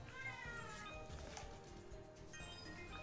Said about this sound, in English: why do they have to meow so loud?